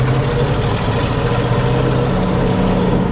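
The engine of an old C60 Viking, running again after sitting for 40 years, idles with a steady, loud, rough rumble close by and no speech.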